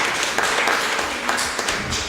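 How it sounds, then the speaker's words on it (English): A symposium audience claps together in a brief burst of applause, a dense patter of many hands that holds steady for about two seconds. "let's have a round of applause for all of them one time"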